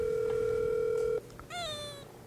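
A steady telephone dial tone holds for about a second, cuts off, then a short electronic chirp sweeps up as a call to a friend is placed; nearby and clear, with no talking.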